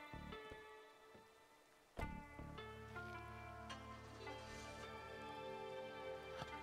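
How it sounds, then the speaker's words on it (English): Rain falls steadily in the video game The Darkside Detective, a soft continuous patter beneath layered music with a sharp hit partway through. "Also, are you leaning out the window in the rain?"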